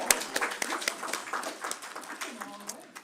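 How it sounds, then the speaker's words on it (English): Committee members in a hearing room clapping for visiting students, scattered brief applause mixed with talking voices, fairly faint and short. "We applaud your being here."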